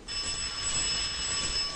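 A steady electric bell ringing, a door bell that sounds like a telephone, in an old 1963 film scene, one continuous close shrill ring with no talk.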